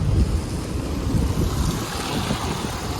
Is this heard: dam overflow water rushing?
yes